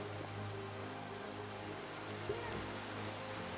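Steady hiss of rain falling in the Minecraft game world, a continuous even wash of drops on surfaces with a faint low drone beneath and a brief soft knock partway through.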